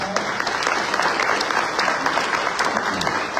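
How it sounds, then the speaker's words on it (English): Audience members at a mayoral forum applaud, a loud, dense, continuous burst of clapping heard close throughout a few seconds. "I want to give another round of applause to these gentlemen."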